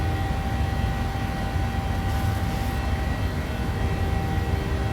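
Boeing 737-600 engines at reduced climb thrust in a flight simulator, a steady loud broadband roar and hum with no pauses.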